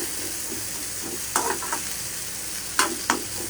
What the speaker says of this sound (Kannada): ಜಸ್ಟ್ ಸ್ವಲ್ಪ ಫ್ರೈ ಆದರೆ ಸಾಕು